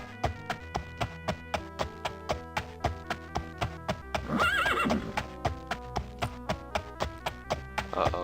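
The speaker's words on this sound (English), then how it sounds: "the clopping is still happening" Horse hooves clip-clop steadily in the Daggerfall video game, a regular, even rhythm of close, clear hoofbeats running throughout, with a brief burst of whinnying partway through.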